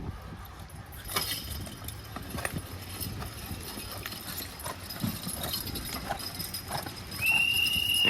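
Hooves of a lightweight draft horse team clop on the ground at a county fair horse pull, with harness chains jingling, a sharp whistle near the end and crowd murmur in the background.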